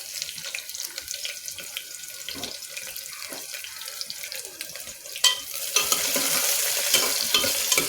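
Chopped onions fry in oil in a pan, giving a soft, crackling sizzle with light stirring and scraping, which grows noticeably louder and fuller about two-thirds of the way through. No speech.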